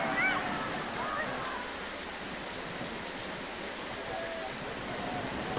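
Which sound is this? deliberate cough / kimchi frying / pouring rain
pouring rain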